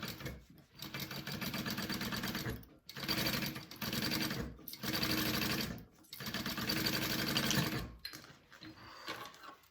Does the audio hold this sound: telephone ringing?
no